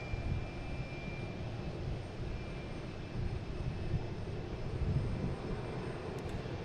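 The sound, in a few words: JetBlue jet airliner departing for LAX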